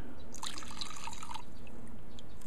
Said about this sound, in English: I need to pour the gas out before I make a mess here